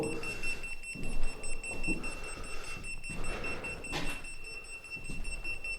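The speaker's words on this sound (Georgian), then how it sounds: "რაც გამოვიყენე ყველა აპარატი იძლევა განგაში სიგნალს" An electronic detector sounds a steady high-pitched alarm tone, continuous and fairly faint, beneath background rustling and movement.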